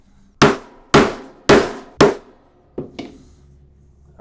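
Four sharp, evenly spaced hammer blows drive a 1.5 inch strap end punch into leather, followed by two lighter taps, close and loud in a quiet room.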